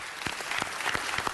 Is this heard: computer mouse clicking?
no